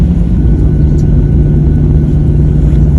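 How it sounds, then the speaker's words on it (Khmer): A passenger airplane on the way to Taiwan runs its engines up before takeoff, giving a loud, steady, low roar heard from inside the cabin with no talking. "ឥឡូវនេះដែរយន្តហោះក៏ កំពុងតែរៀបចំឡើងហើយ មានអារម្មណ៍ថាម៉ាស៊ីនវាគឺលឺខ្លាំងមែនទែន"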